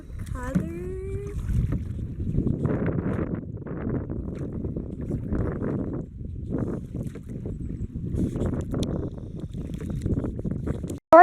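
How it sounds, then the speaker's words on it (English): Gusty wind buffets the microphone in low rumbling bursts throughout, loud and continuous, with a brief faint tone near the start, outdoors while kayaking at River Canard. "Sorry about the wind in the video."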